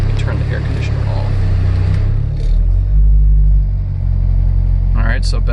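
An Acura RSX engine idles with the air conditioner off, a steady low rumble throughout, close and loud, with a brief rise in the middle and a bit of background noise near the end.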